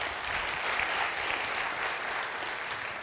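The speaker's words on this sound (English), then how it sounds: "one applause for him." An audience at an agile software conference in Serbia applauds a speaker, a dense, sustained wash of many hands clapping at moderate distance with no voices.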